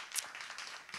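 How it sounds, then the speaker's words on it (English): Faint, quiet applause from an audience at an investigative documentary talk event, a brief wash of scattered clapping with no voices over it. "Let's give a round of applause for the team of"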